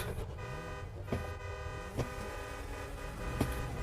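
A car horn toots in short repeated honks over a steady engine hum, with a few sharp clicks between, from a car in GTA Online during a stunt race.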